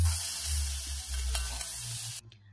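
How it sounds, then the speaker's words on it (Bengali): Raw tomatoes frying in hot oil with salt and turmeric, a steady bright sizzle with a low hum beneath, cutting off near the end. "আবারও ওই তেলেতে কাঁচা টমেটোগুলোকে নুন হলুদ দিয়ে ভেজে নেব।"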